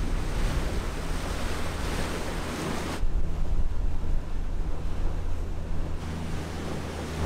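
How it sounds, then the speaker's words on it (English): Strong wind roars over sea waves in Desolation Sound, Canada, near a boat, with loud continuous rushing noise and buffeting gusts throughout. "all of a sudden the wind just started blowing like crazy"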